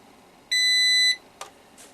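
An Emerson Liebert GXT-MT Plus UPS gives one loud, steady electronic beep of about half a second as it is switched on, followed by a couple of faint clicks.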